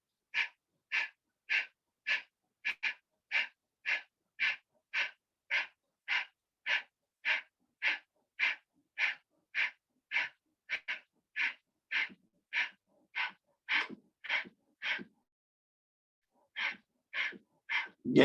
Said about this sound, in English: do Kapalbhati for 30 seconds